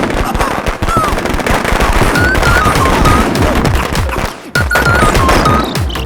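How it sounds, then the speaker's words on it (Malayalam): Loud, dense burst of explosive cracks and pops from a bomb blast at a panchayat office in a Malayalam film scene, rapid bangs running almost continuously with a brief drop before resuming. "പഞ്ചായത്ത് ഓഫീസിന് ആരാണ്ട് ബോംബ് വെച്ച്."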